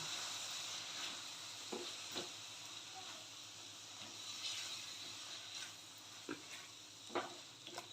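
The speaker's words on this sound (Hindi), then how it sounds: "मैं सब मसालों को अच्छे से मिक्स करूंगी और उसे इन मसालों को तेल में थोड़े टाइम तक भूनूंगी" Spice masala frying in oil for a Konkani cashew and egg masala, a steady close sizzle and hiss with a few brief louder crackles and stirring taps.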